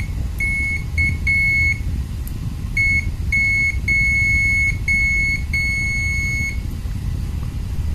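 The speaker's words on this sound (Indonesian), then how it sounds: "Kita coba untuk buzzernya terlebih dahulu." Continuity buzzer on a Zoyi ZT-QB9 clamp meter sounding a high steady beep in a series of on-off bursts of varying length, close and clear over a low background hum.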